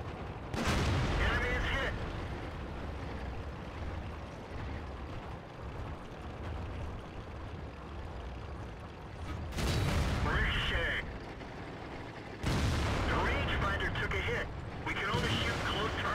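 Tank cannon shots in World of Tanks, with a Tiger P in the fight, land as heavy booming blasts with rumbling tails, one early and a few later, over game engine noise while someone talks throughout.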